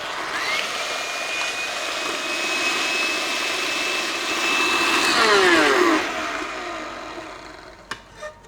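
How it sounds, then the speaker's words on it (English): A stand mixer with its whisk attachment runs on high, beating mashed avocado with oil: a steady, loud motor whine that holds for several seconds, rises briefly in pitch, then winds down before a couple of light clicks. "the whisk attachment of the stand mixer"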